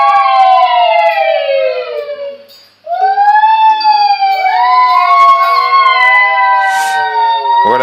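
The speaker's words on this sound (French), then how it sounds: "Voilà, le bruit des sirènes" Several wailing sirens rise and fall together, loud and close, with a brief dip in the middle before they swell again.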